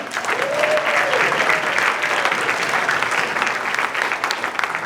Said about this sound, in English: so I want everyone to give her a round of applause.